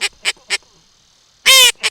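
A teal duck call being blown: three short evenly spaced quacks, a pause, then one long loud drawn-out note and a final short quack, close and clear with no talk.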